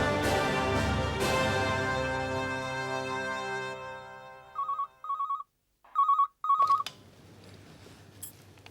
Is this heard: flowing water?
no